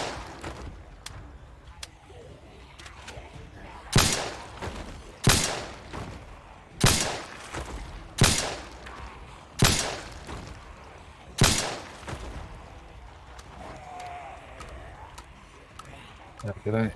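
Six loud, sharp shotgun blasts from a firearm in Project Zomboid ring out at irregular intervals of roughly one to two seconds, each with a short decaying tail over quiet game ambience, with faint talk in the background.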